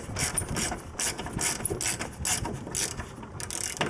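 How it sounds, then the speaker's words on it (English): A hand ratchet tightens a fastener while the front bumper goes back onto a 2009-2013 Toyota Corolla, giving close, loud bursts of rapid clicking in a steady back-and-forth rhythm with no talk. "I'm gonna take this and just tighten it down."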